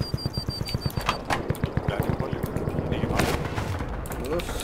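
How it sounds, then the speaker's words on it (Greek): Rapid, evenly spaced gunfire rattles in a steady burst in the game CRSED, followed by scattered shots and noisy game action in the background. "Ναι, πυροβολισμούς ακούω."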